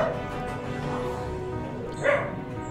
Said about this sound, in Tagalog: Yan yung aso dyan na magkahol-kahol guys